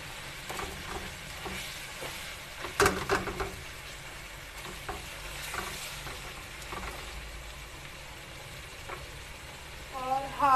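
Quail pieces are stirred and mixed in a hot karahi, with soft sizzling and scraping clinks against the pan and a louder clatter near three seconds.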